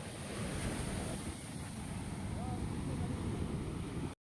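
Ocean waves break on a beach at night in a continuous, loud roar of surf, heavily mixed with gusty wind buffeting the microphone.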